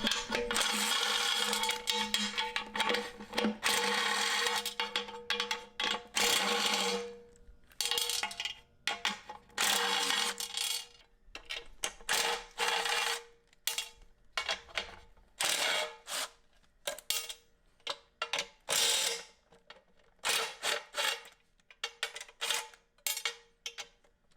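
Hand tools clatter and click while wide wheels are taken apart, a T30 torque bit and 10mm nuts being worked loose, in close, irregular bursts of metallic handling with short quiet gaps.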